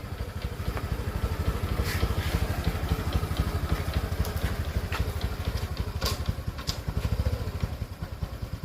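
A remap-tuned engine idling steadily in a Thai workshop, a fast even mechanical chug with light clatter, close and constant, with a few sharp knocks and clinks over it and no talk.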